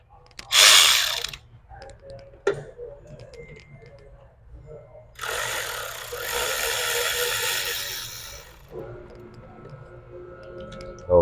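A ratchet works on 6 mm clamps on a 2007 BMW 525i intake, giving a close burst of clicking, a pause, then a longer run of steady ratcheting, with no talk over it.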